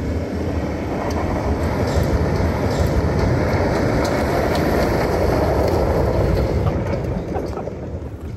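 A 2024 Chevrolet Silverado ZR2 Bison pickup cruises along gravel forest roads, a steady loud rumble of engine, tires and road noise with no break, no voices.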